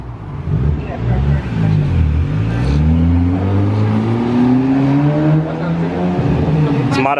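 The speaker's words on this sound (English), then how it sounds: "That's modified exhaust." Loud car with a modified exhaust revving and pulling away, its rising engine tone steady and close through the whole stretch, with people talking over it.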